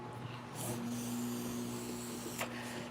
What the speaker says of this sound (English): Pardon the running that you hear of my washing machine.